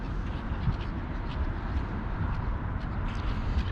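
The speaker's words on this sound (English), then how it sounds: "Now they gave the chance for the seagulls to come down." Faint seagull calls come in scattered short bursts as the birds drop down over a roof, set against a steady, dense background rumble.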